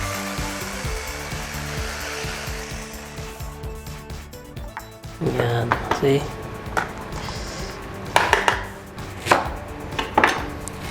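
A food processor grinds cabbage, first as a steady motor whir, then as a rough rattling and chopping while the machine is shaken. A person talks briefly over it.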